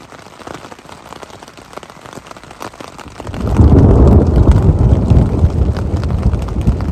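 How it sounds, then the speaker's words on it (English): Rain falls at a campsite during an overnight trip, first a light patter and then, about halfway through, a sudden loud, dense downpour drumming steadily on nearby surfaces. "Started to rain"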